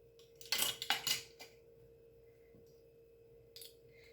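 A utensil clinks against a bowl as vanilla extract is mixed into a batter base, a few quick near clatters in a burst, then quiet with a faint steady hum and one more soft tap.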